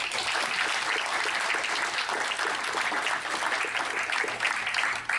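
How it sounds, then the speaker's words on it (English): A crowd claps steadily and loudly for several seconds, a dense, even wash of applause without speech. "let's give him a big round of applause"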